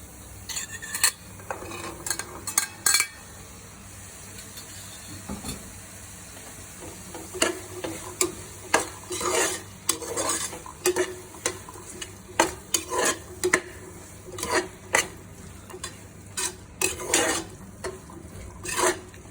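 Rajma pulao is stirred in a sizzling pan: a long run of irregular scraping and clinking strokes from a spoon against the pan over a soft, continuous fry, heard nearby at moderate volume.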